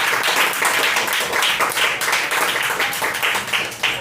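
A congregation applauding during a prayer service at an evangelical church, brisk rhythmic clapping that rises and falls close by, with a voice faintly heard underneath.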